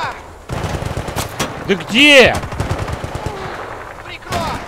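Bursts of automatic gunfire crackle through a firefight in Battlefield Bad Company 2, loud and continuous. Players talk over the shooting, and a rising whine sweeps past in the middle.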